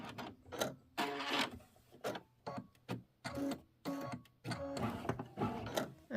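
An embroidery machine running its thread-cut cycle: a series of loud, close mechanical whirs and clunks in short bursts with brief pauses, no voices.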